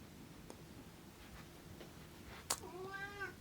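A cat lets out one short, rising meow near the end, right after a faint click, in a quiet indoor room with a low background hum.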